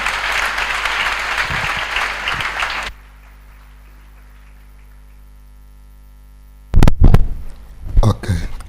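Church congregation clapping loudly for about three seconds, then near silence with a low electrical hum, followed by brief bursts of crowd noise and voices.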